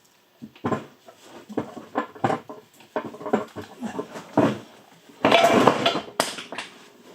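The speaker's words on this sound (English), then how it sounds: "So you just heard everything dropping on the floor." Metal parts from an NV3550 manual transmission rebuild drop onto a hard floor, giving a run of sharp clanks and rattles up close, with a denser, louder burst of clattering near the end.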